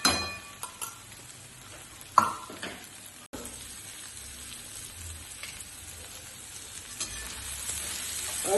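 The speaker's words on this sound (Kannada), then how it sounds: "ಇವಾಗ ಒಂಚೂರು ತುಪ್ಪ ಹಾಕ್ತಾ ಇದ್ದೀನಿ." Ghee sizzling on a masala dosa frying on a pan, a close, continuous crackling hiss with occasional sharp clinks and pops.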